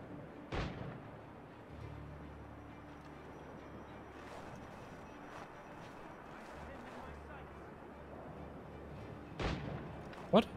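Scattered gunshots in the video game Assassin's Creed Rogue, two sharp distant-sounding bangs standing out over a low ambient rumble, with faint softer pops between them.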